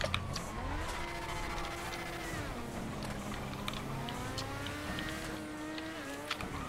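Motorbike engine in a racing video game with transforming races, a continuous loud whine that rises and falls steadily as the bike accelerates and shifts, with no talk over it.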